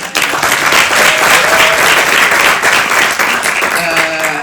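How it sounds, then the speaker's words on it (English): An audience at the Somali Week Festival in London gives a loud, sustained round of clapping, close and even, with brief voices and a few cheers mixed in. "Please give them a round of applause."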